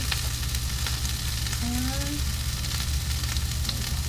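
Asparagus frying in a pan, a constant close sizzle over a low steady hum with faint crackles and a brief tonal squeak partway through, no voices.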